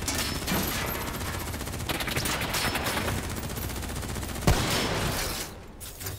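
Continuous automatic gunfire in a Call of Duty: Black Ops 3 battle, rapid dense shots rattling steadily throughout, close and loud, with one heavier impact partway through.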